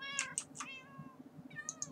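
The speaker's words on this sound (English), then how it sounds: "I'm gonna keep a couple cats in here." Cats in Minecraft meow softly in a short run of separate high mews, some overlapping, quiet and close with no speech.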